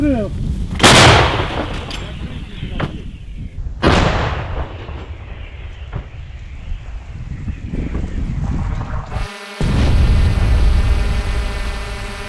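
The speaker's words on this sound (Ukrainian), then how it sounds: "Постріл!" A heavy Soviet-made artillery gun fires a booming shot that rolls away, followed by loud wind buffeting and rumbling, with another blast near the end.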